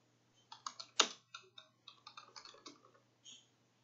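A short burst of typing on a computer keyboard entering an Ansible version command, about a dozen crisp close key clicks in uneven rhythm with one louder strike, ending in a final keypress.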